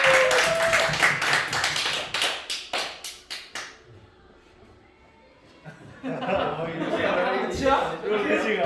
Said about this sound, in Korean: 박수 한 번 더 치고